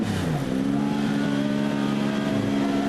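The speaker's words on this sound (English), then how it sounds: "The Nissan Nismo starts up." A Nissan Nismo GT race car at the Red Bull Ring pulls away with a loud, continuous engine roar. The pitch climbs quickly, then holds steady and close, with no voices.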